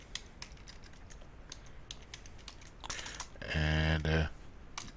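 A computer keyboard is typed on at a steady quick pace while HTML code is entered in Notepad++, the clicks close and fairly quiet, followed by a short burst of a louder tonal hum.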